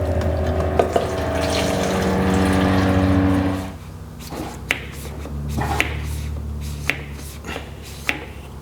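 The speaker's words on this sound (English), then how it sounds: "I'm going to use this siphon pump here and we'll just pump it straight back into the tank" Siphon pump drawing fuel from an experimental airplane's tank into a jug, a steady liquid pumping and gurgling wash for the first few seconds, then quieter with sharp ticks and clicks recurring at intervals.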